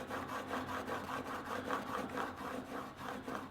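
A knife blade stroked lightly and evenly across a 2000 grit diamond sharpening stone, a soft steady rasping that pulses with each pass, close up and alone.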